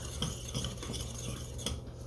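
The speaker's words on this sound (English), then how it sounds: "I'm just going to start stirring it up here with my Dutch whisk" Dutch whisk stirring blackberry wine cake batter in a bowl, giving repeated soft scraping and clinking strokes against the bowl in a steady rhythm, close up with no talking.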